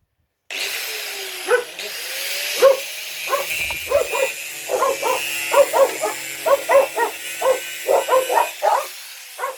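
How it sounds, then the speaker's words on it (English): Several dogs bark in repeated bursts, loud and close, with yips layered over a steady electric whine from a power tool used while recovering copper from old CRT television yokes. "Quiet dogs."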